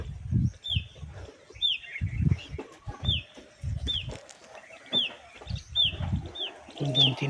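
Chickens cluck on a farm in a run of short, close, low bursts, with faint bird chirps above and occasional background sounds between the calls.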